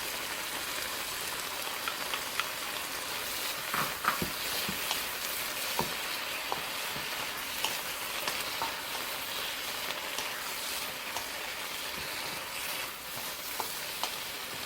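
Mushroom stir fry for a vegan Peruvian lomo saltado sizzles steadily in a pan as cilantro goes in, a continuous close hiss with occasional small pops and stirring clicks.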